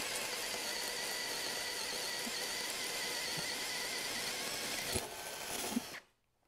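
A WORX Switchdriver 20V cordless drill bores through wood with a 32 mm spade bit, giving a steady, loud whirring grind that runs unbroken for about five seconds, then a couple of catches before it cuts off.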